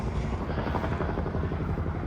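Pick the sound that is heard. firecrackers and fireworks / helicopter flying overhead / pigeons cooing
helicopter flying overhead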